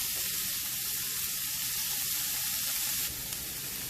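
Onions sautéing and slowly caramelizing in a pan give a steady, close, bright sizzle that holds unbroken for a few seconds, with no talking.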